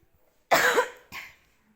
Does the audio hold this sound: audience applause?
no